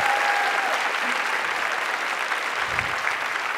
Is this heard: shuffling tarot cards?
no